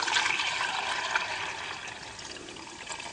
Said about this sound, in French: Et donc je vais verser.